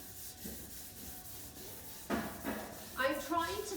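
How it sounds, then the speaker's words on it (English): Folded sandpaper rubbed by hand over a furniture surface to dull its shine, soft scratchy strokes growing louder and more rhythmic toward the end, with someone speaking quietly at times. "Fold the sandpaper in half. So I am just roughening up this surface."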